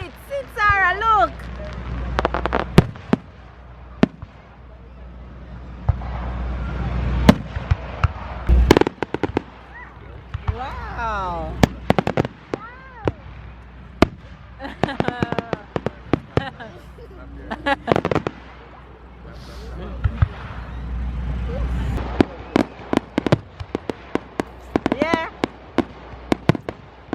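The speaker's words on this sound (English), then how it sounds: "Fireworks." Fireworks bursting at a Fourth of July celebration in New Jersey, with sharp pops and crackling bangs going off repeatedly, some whistling rockets rising, and people talking and chattering nearby throughout.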